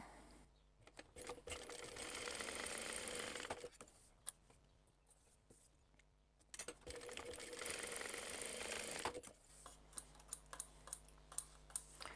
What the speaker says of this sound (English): Now I'm just going to stitch down each side of that, or each end of it.